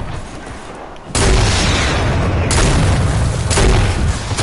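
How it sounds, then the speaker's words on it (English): In Fortnite, homing rockets fire and explode in a series of sharp, heavy booms that hit with a sudden blast and repeat at intervals over a loud rumbling bed of noise, with no talk. "who is that one guy just firing that homing rocket everywhere?"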